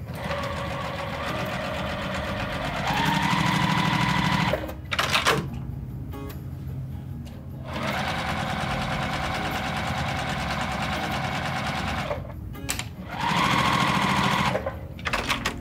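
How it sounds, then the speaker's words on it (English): Sewing machine stitching all the way around a quilt square for a Churn Dash quilt block, running in steady bursts of rapid, even stitching with short pauses between runs. "you're gonna sew all the way around this square"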